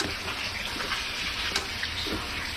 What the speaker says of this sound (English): And then just run them under a bit of cold water